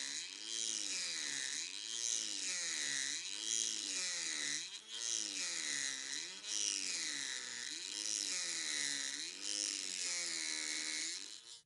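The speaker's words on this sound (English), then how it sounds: "Remove glazing with the cutter's sides, not the tip. Work with the tool at a medium speed, increase the speed if the tool chatters." A Dremel MM40 oscillating multi-tool scrapes old glazing from a window frame, a close steady buzzing whine that rises and falls in a regular wavering rhythm with each pass.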